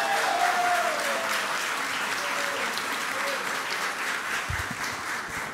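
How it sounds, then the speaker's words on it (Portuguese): A medal ceremony audience applauds steadily, a continuous dense patter of many hands at moderate distance, with faint voices and a whistle-like tone in the mix. "pode aplaudir"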